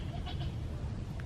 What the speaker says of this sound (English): Push those goats out of the way.